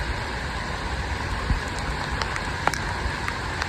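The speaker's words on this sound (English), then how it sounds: "it's raining big time" Heavy rain pours down steadily as a dense, even hiss with a few brief drip-like taps and small knocks, loud and continuous throughout with no voices.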